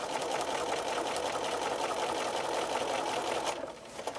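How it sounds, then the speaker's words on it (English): A sewing machine stitches straight quilting lines across fabric for a tablet cover, a steady, fast mechanical whir that runs unbroken and then stops just before the end. "Continue stitching all of the lines across the fabric."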